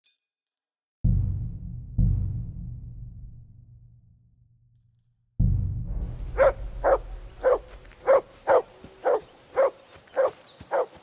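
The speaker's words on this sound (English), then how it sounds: "I assume you can hear that damn dog of yours barking." Low thuds and a fading rumble open the scene, then a dog in the medieval game Kingdom Come Deliverance II starts barking. Roughly eight sharp, regular barks follow in quick succession, near and prominent over a dull background.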